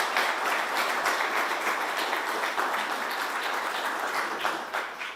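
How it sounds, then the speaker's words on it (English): Applause from an audience at a government announcement about the 2020 U.S. Census, a dense and sustained round of clapping from many hands that stays loud throughout and eases slightly toward the end. "let's give them a big round of applause"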